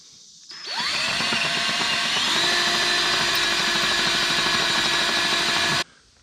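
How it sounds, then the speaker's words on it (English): A power drill bores a hole during mechanic work, spinning up sharply and running loud and continuous for about five seconds before stopping abruptly. "all right, we drilled it."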